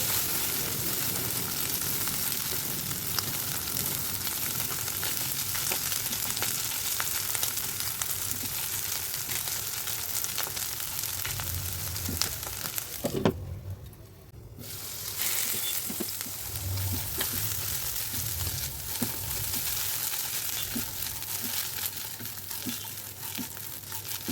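Shing fish roe stirred and fried in a pan, a continuous close sizzle with crackling and scraping stirs, briefly interrupted by a clack and a quiet moment before the frying resumes, no talk.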